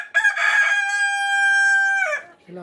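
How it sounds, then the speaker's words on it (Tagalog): A Rhode Island rooster in a breeder cage crows once, close and loud, a single sustained cock-a-doodle-doo of about two seconds ending in a short drop-off. "yan yung rooster natin na Rhode Island"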